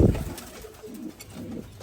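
A pigeon at a loft of commercial and flying pigeons gives soft, low cooing phrases after a brief bump, nearby and fairly quiet.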